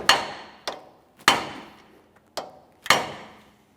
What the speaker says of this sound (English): so I'm just using a hammer and punch. We'll give this a couple taps.